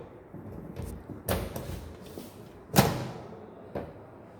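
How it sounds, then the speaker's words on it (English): The door of a transformer oil dielectric-strength test kit in a lab is shut, giving a few sharp thumps and clunks, the loudest near the middle, with quieter knocks around them. "we close the door"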